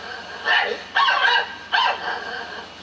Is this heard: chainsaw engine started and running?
no